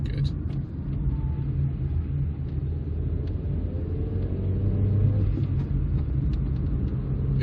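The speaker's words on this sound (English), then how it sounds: "The exhaust actually makes quite a good noise as well." A 1994 Toyota Carina E with a 1.6 engine gives a deep, steady exhaust rumble, rising in pitch briefly as the engine revs, heard up close and loud.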